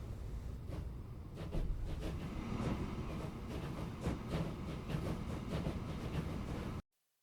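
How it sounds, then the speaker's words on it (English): A train running on rails in Transport Fever 2 rumbles along with rhythmic wheel clacks on the track, steady and fairly close, cutting off abruptly near the end, with no talking. "I decided to turn the train around since it was almost full anyways."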